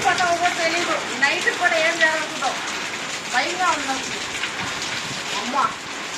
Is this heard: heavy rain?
yes